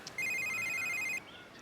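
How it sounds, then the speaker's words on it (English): A telephone rings once with a bright electronic ringtone burst lasting about a second, moderately loud and alone, followed by quiet room tone. "Dude, your phone, you gonna get that?"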